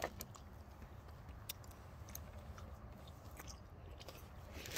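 Someone chews gum close up in a quiet backyard, soft wet smacking and clicking sounds repeating faintly over low background hiss.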